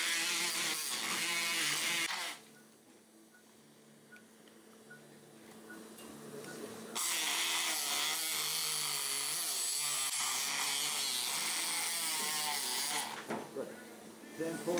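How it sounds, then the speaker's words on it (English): An oscillating surgical saw cuts the tibial joint surface during a total knee replacement, a high buzzing whine in two sustained bursts separated by a quieter pause with faint background noise. "Cut and remove the tibial joint surface with the oscillating saw."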